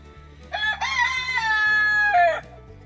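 A rooster crows once, loud and close, a drawn-out cock-a-doodle-doo over a faint low hum, with chickens kept in a backyard after an ice storm.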